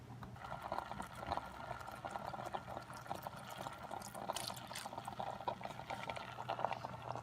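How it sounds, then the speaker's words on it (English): Kikkoman naturally brewed soy sauce is poured into a pan with onions, giving a quiet, steady liquid pour over soft sizzling that continues throughout. "Now I'm going to grab the soy sauce. And here we have the good old naturally brewed Kikkoman soy sauce."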